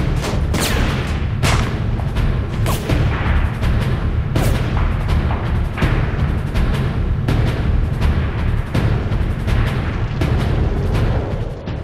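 Violent street fighting in Paris during the Second World War, with artillery booms and gunfire cracking in dense, repeated bursts over a constant roar of battle, loud and close for the whole stretch.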